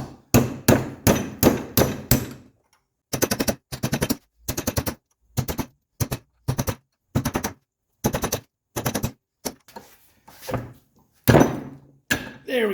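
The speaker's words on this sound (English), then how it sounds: "So we have to actually knock in the edges to get her loose." Hammer striking a chisel to knock out the old front wheel bearing seal on a 1985 Mercedes 300CD, loud close metallic blows in rapid rhythmic bursts, some pauses between groups.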